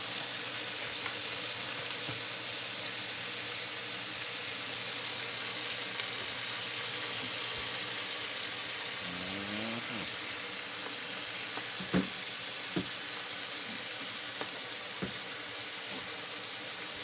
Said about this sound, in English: Especially when you're frying them down like that.